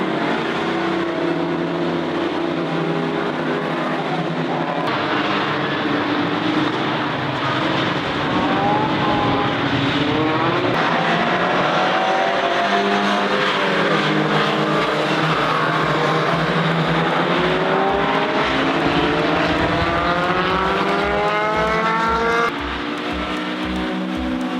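A 1959 Alfa Romeo Giulietta SV race car runs on a wet track at Ring Knutstorp on narrow tires, its engine droning loud and steady throughout with rising and falling revs and a rhythmic low pulsing near the end.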